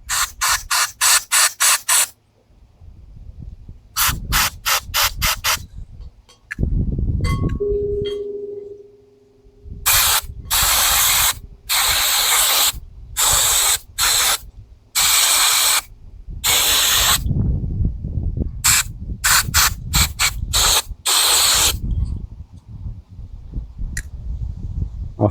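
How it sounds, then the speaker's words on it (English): Repeated aerosol spray bursts aimed into the fuel inlet of a Tecumseh Snow King snowblower carburetor during a rebuild, short hissing blasts in irregular groups, close and loud, with brief pauses and small mechanical handling sounds between them. "Then we spray in the fuel inlet."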